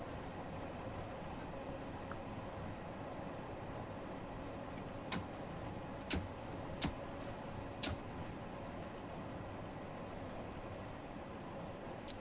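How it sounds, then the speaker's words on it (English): A passing train in the Train Sim World 5 railway simulator on PS5 gives a quiet, steady rumble of wheels and rails. A few short metallic clacks stand out near the middle, and no one speaks. "Nice to see another train."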